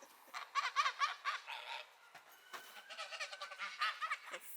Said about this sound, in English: The chickens just want to eat you